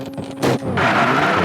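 A rally car in Richard Burns Rally pulls a handbrake turn, a brief thump followed by a loud, sustained gravelly skid scraping close by.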